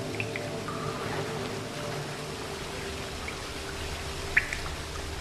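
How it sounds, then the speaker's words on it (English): Steady trickling water in The Witcher 3 video game, a continuous soft flow with faint drips, ambient and mid-distance, with no one speaking. "Sound of water was the only thing we could go off there."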